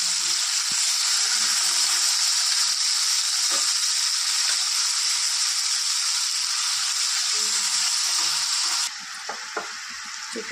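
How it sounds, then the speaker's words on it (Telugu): Boiled broad beans (chikkudukaya) with curry leaves and coriander sizzle steadily in a pan with oil, a dense continuous hiss with occasional soft clinks and stirs, close and alone. "తర్వాత ఉడకబెట్టిన చిక్కుడుకాయ వేసి బాగా ఫ్రై చేసుకోవాలి."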